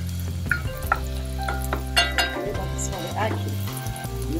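Stirring food in two pots on the stove while cooking a Jamaican breakfast, soft scraping and clinks over a steady sizzle of frying, with a person talking throughout.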